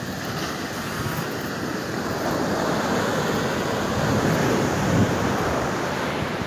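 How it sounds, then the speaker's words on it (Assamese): Sea waves washing onto the shore at Puri beach: a steady, dense roar of surf that swells slightly toward the end, with wind buffeting the microphone and no voices. "আমি এইমাত্ৰ সাগৰৰ পাৰত আহি ইয়াত চাওঁ আপোনালোকক এই সাগৰৰ ঢৌ"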